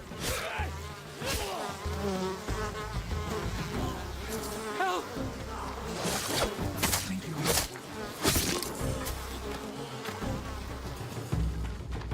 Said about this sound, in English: Oh, bees.